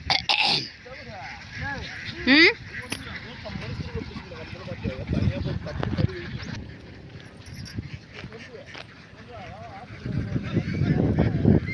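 Ducks kept for their eggs quack and honk nearby in repeated nasal bursts, some loud and close, while people talk over and between the calls.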